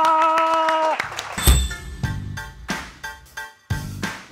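Brief applause greets a national table tennis player arriving at a casual table tennis session, a short burst of clapping after a tonal chime, with several sharp hits and a spoken word in the clip.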